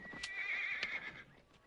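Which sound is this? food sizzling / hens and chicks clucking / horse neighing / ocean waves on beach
horse neighing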